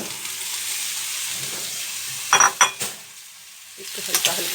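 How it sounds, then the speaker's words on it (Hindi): Pointed gourd (parwal) is tipped into a sizzling pan, a low frying hiss broken by a few sharp clattering utensil knocks and scrapes against the pan, then a brief quieter moment. "इसके बाद ये परवल डालेंगे।"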